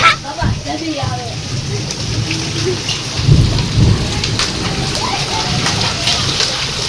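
Heavy rain and hail pound a roof under gusting wind, a dense steady roar with a low rumble partway through and faint voices underneath.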